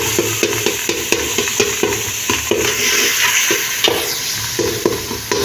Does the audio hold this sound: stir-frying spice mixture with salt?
yes